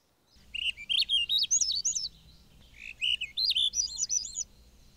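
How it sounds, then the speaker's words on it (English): A chickadee calls nearby in a rapid run of high, twittering notes, given twice in quick bursts over faint background hum, with no voices. "Over here, there's a chickadee."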